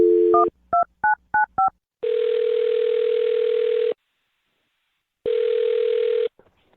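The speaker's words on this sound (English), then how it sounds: "I'm going to dial his phone number right now" A telephone number is dialed: four short dialing tones beep in quick succession after a brief tone, followed by two long steady ringback tones separated by silence.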